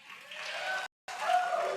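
Audience applause during a Cherokee Nation principal chief debate, a faint indoor patter of clapping that cuts out briefly and then resumes slightly louder.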